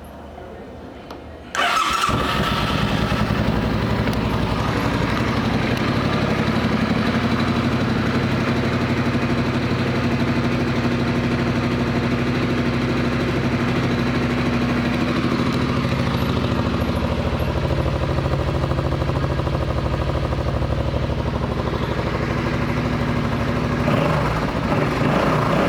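A 2008 Suzuki Boulevard C50 motorcycle engine fires up after a brief quiet moment and settles into a steady, loud, close idle that runs unbroken for the rest of the clip.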